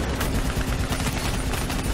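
Sustained, dense gunfire rattles through Call of Duty Black Ops 3 on Xbox One, a loud, continuous barrage of overlapping shots with no break across the moment.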